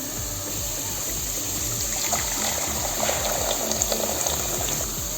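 Water runs steadily into a pot, filling it for boiling pasta: a continuous close trickling and splashing that grows a little busier toward the end, with no talking.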